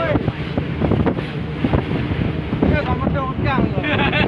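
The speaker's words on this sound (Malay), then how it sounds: "Ada motor air." Motorboat engine running on the water off a white-sand beach in Aceh Besar, a steady close drone mixed with heavy wind buffeting and splashing, with voices talking over it.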